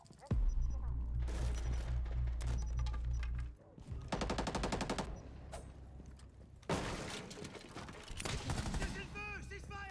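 Friendly fire in a video game: heavy, sustained automatic gunfire bursts with deep booming thuds, pausing briefly and then resuming in loud volleys, with voices talking in places.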